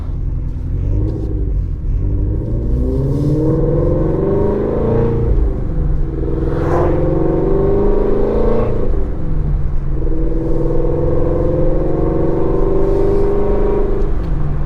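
A Ford Shelby GT350 engine on a cold day, held around 3,000 RPM with a deep, steady rumble and a couple of rising revs, loud and close throughout with no talk.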